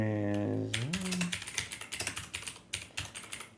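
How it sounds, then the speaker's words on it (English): Loud computer keyboard clattering in quick, uneven bursts of sharp keystrokes close by, following a brief stretch of speech at the start. "I know my typing is really loud"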